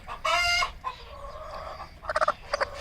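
A hen clucks and calls loudly and close by, a long drawn squawk followed by a quick run of short rhythmic clucks, with no talk.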